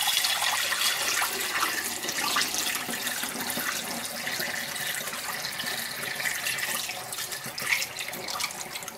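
Homemade oat milk pours through a funnel into a glass bottle, a steady, close gurgling stream that runs for several seconds with small splashes and a trickle toward the end.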